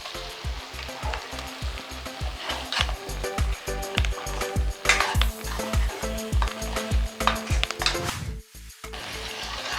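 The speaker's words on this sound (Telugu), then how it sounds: "ఇప్పుడు మనం ముందుగా మిక్సీ పెట్టుకున్న మసాలా గ్రేవీ వేసుకుందాం" Masala gravy for a dhaba-style okra fry sizzles loudly in a hot pan, with steady rhythmic stirring and scraping knocks over the continuous hiss; no one speaks.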